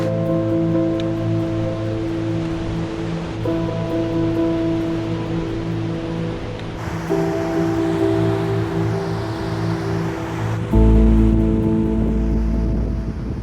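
Glacial meltwater stream running over stones near a snout camp on a rocky glacier in the Himalaya, a steady broadband rush of water heard close and continuous throughout, with a faint hum of other sound beneath.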